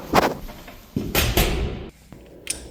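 A door swinging open and shut close by, a couple of sharp knocks and thuds with some rattle between them, sounding indoors with no speech.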